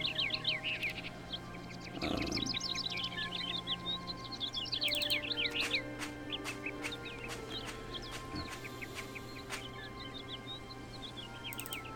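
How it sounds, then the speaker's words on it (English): Birds chirp and tweet in the Syberia video game, quick bright calls repeating over a steady ambient hum, with a brief burst of noise near the start and no talk. "It's the last time we'll see those birds."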